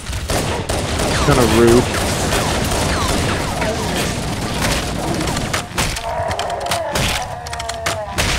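Rapid gunfire in a video game, bursts of shots and thuds crackling throughout, loud and busy, with players talking over it.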